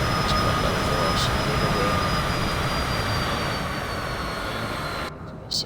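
A Cessna Citation CJ4 in Flight Simulator 2024 roars with steady, loud jet engine thrust at takeoff. The broad rumble holds evenly and eases slightly near the end, with no talking.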